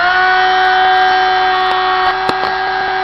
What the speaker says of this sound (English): I'll just come back, turn the spindle back on.